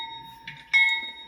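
Bell from an Atlas B40-8W model locomotive sound decoder, BNSF H4 scheme, rings in a couple of clear metallic strikes with a sustained ringing tone, close and fairly loud.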